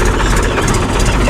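A tractor engine runs on a farm in rural Gujarat, a steady, loud, rumbling drone with no break and no voices.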